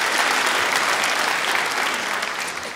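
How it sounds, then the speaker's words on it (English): A comedy show crowd applauds: dense, loud clapping that fills the room from start to finish and fades slightly at the end. "Round of applause for yourselves."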